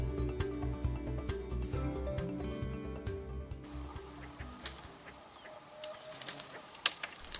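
A hen clucks from dense forest understory in Maine, with low, soft clucks early on, then quieter stretches broken by scattered sharp bird chirps nearby.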